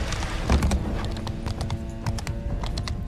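Horse archers' mounts gallop in a Mount and Blade II Bannerlord battle, a steady rapid clip-clop of many hooves with an occasional whinny, loud and continuous against the clash of combat.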